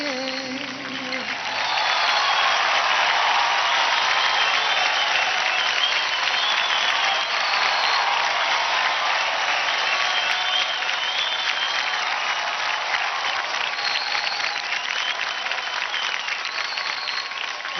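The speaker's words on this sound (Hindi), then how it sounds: "जोरदार तालियां हो जाए राघव के लिए।" Loud, sustained audience applause with some cheering follows Raghav's dance performance on a televised dance competition stage, building after a brief moment of music and holding steady to the end.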